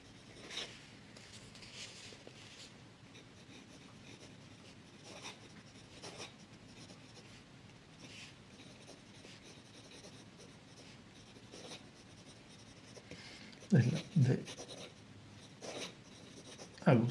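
A De Agostini collectible fountain pen writing on paper, close and quiet scratchy strokes in short bursts with pauses, ending with a few louder knocks and rustles.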